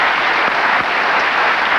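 A studio audience at a 1992 late-night talk show gives brief, steady applause, a dense wash of clapping heard alone and fairly close.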